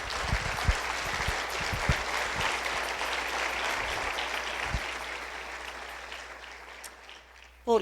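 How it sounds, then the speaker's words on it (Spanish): A church congregation applauds in a sustained, dense wash of clapping that slowly fades, with a few louder thumps and some voices mixed in. "Así es que vamos a darle un aplauso al Señor."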